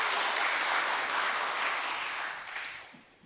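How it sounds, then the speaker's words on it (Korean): Broad, dense applause from a church congregation during a Sunday service, steady for a few seconds and then fading out toward the end. "이건 박수 쳐도 될 것 같은데. 박수 치라고요."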